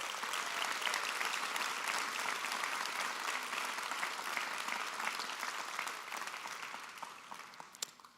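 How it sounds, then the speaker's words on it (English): Audience applause fills a graduation commencement ceremony at a health sciences university, a steady, dense roar of clapping sustained throughout before tapering slightly at the end. "thanking them with a round of applause."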